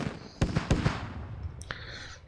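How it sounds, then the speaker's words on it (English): Rockets striking a logistics truck in the military shooter Squad, several sharp cracking blasts in quick succession followed by a fainter bang and a fading rumble, mid-distance, with no voices. "Rockets going up on a logi up here"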